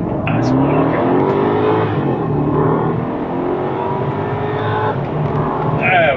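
BMW 650i accelerating hard from a standstill in Steptronic manual mode, a loud, close engine roar climbing in pitch through the revs with brief dips at gear changes. Faint talk sits under it.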